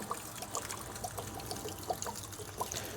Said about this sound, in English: just more water draining out of the camper.